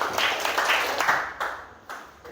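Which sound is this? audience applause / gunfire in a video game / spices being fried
audience applause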